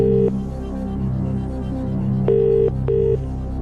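A telephone call rings out on a UK quiz show, with ring bursts at the start and two more near the end over a steady low background, loud and close.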